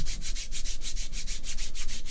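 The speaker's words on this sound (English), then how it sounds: "It really makes it easier to get a good, you know, sanding going" Foam-backed sandpaper scrubbing back and forth in a steady, fast rhythm, each stroke a bright rasping hiss, close and continuous without any voices.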